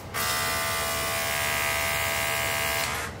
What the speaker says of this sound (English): how loud it is. That's the only con I got about this BEAMTEAM cordless compressor.